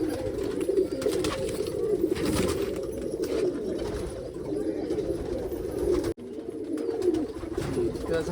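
A sick pigeon suffering from a wasting illness coos close by in a low, repeated throaty murmur that goes on steadily, with a brief break near the end.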